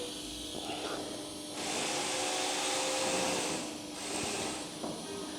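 Shielding gas hissing steadily from a welder torch after the arc stops, during welding work on a Mk6 Golf GTI Edition 35 exhaust; a broad continuous hiss swells louder in two stretches, with no talk.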